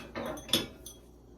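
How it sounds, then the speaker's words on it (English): Small metal pie pans clink and rattle as they are handled in a home kitchen, a short cluster of light metallic knocks with one sharper clank near the middle, close and fairly quiet. "I am looking for these small pie pans."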